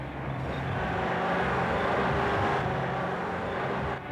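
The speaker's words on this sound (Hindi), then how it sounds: "किसी गाड़ी की आवाज आ रही है।" A car approaching near a roadside checkpoint at night, heard as a steady, loud broadband engine and road rumble that holds for about four seconds with no voices over it.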